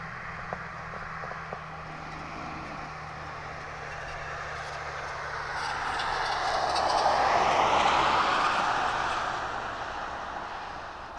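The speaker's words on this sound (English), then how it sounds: "And I believe that's our DHL taxiing down." A DHL aircraft taxis at East Midlands Airport, a steady distant engine roar that swells and then eases slightly.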